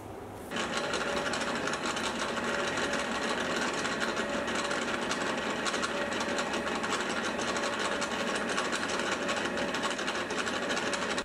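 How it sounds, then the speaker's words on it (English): Metal lathe at about 80 RPM cutting a helical worm gear profile, a dense, steady mechanical buzz and grinding that starts abruptly and holds at an even level throughout, close and with no talk. "Now, I'm running this at about 80 RPM, which is the lowest I can go for this lathe"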